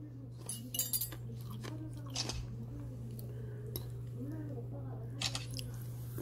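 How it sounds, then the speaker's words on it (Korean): Close mouth sounds of someone eating jjamppong-style seafood spaghetti: wet slurps, squishy chewing and occasional clinks of utensils on a dish, over a steady low hum. "짬뽕 스파게티를 한번 먹어보겠습니다."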